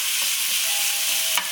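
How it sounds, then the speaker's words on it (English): Pork mince frying on high heat in a pan, stirred and broken up, giving a steady loud sizzle with a faint scrape near the end. "I just want to stir this around for a few minutes and just break it up"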